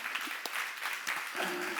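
A church congregation claps during a sermon seminar, a short, fairly soft burst of many hands applauding together, with faint voices underneath.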